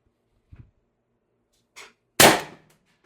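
A single shot from an Umarex TR50 air rifle on 1100 psi HPA with an 8-inch barrel extension, firing an 8.4 gram steel ball bearing: one sharp, close crack that decays quickly, after a couple of faint clicks.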